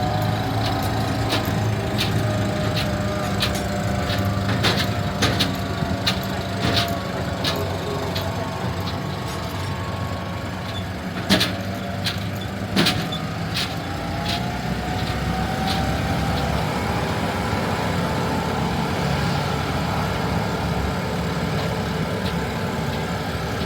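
A tractor pulling a bench-seated ride up a hill at a seaside holiday park, its heavy engine droning steadily and close throughout, with occasional knocks and rattles from the trailer.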